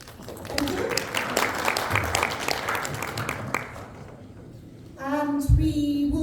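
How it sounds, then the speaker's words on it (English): A conference audience applauds a business forum panel steadily for several seconds, the clapping thinning out briefly before a voice speaks over the end. "I'd like to give a round of applause to our panel"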